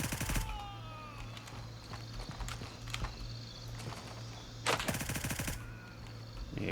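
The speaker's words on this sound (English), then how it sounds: "Using the SIG MCX here, 300 blackout with CQ ammo." SIG MCX rifle in 300 Blackout with close-quarters ammo firing in Gray Zone Warfare: two fast full-auto bursts, one at the start and one near the end, sharp and close over a steady low hum and quiet ambience.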